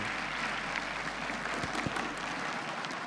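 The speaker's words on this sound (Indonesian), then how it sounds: "Tepuk tangan sekali lagi untuk Indra Frimawan" An audience at a stand-up comedy show applauds comedian Indra Frimawan with a continuous, fairly distant roar of clapping that stays steady throughout, a few sharper claps standing out briefly.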